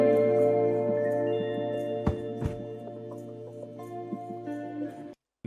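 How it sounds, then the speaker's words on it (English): A simple, clean guitar phrase inside a hip-hop loop, a few plucked notes ringing over steady low tones, with a couple of sharp percussive clicks midway and a brief silent gap near the end. "I then added what might be like my favorite part of the loop, is this little guitar phrase."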